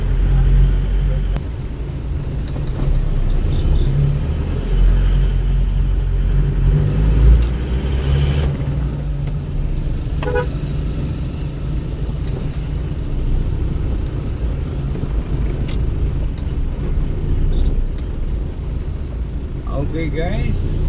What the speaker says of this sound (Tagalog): ilabihan kayo ka traffic mga higala